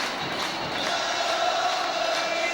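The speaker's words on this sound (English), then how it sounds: "Remarkable scenes of celebration at the stadium here" A huge crowd of overjoyed football fans celebrates a hat-trick in a stadium open about a year and a half, their roar and cheering a steady, dense wash of noise from start to finish.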